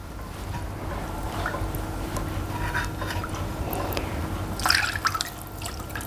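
Half a cup of water is poured from a marinade bowl into a pan while making fried fish. A faint, steady trickle ends in a few brighter splashes.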